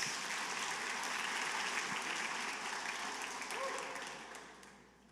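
Congregation applause in a church, broad continuous clapping with a voice faintly underneath, tapering off at the close.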